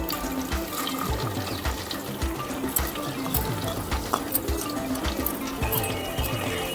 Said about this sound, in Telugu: ఇప్పుడు ఇందులో సన్నగా తరిగి పెట్టుకున్న రెండు మీడియం సైజు ఉల్లిగడ్డలు వేసుకుంటున్నాను